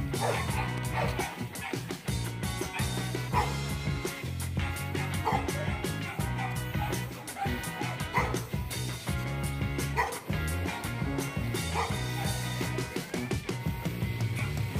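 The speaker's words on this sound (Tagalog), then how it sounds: "Dito may sumusunod na aso." A Belgian Malinois barks, yips and whimpers repeatedly during a night walk, the dog sounds mixed into loud continuous music with some voices.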